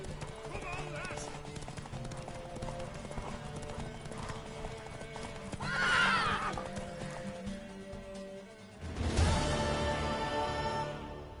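Hooves clip-clop steadily as a mare neighs loudly twice amid a busy soundscape with music and voices, in The Witcher 3: Wild Hunt.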